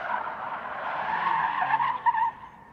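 Tires of a rear-wheel-drive Kia Stinger squeal steadily on an autocross course laid out for drifting, a loud, sustained screech that swells and wavers over nearly three seconds.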